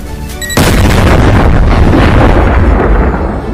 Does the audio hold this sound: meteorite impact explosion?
yes